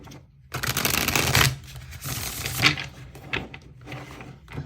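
Tarot cards being shuffled by hand, a riffling rustle with soft flicks and taps, close and quiet, with no voices.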